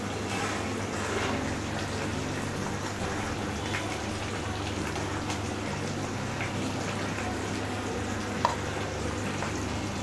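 Koduva fish curry (meen kulambu) simmering in a pan gives a steady, even bubbling hiss throughout, moderately quiet with no talk and one small click near the end.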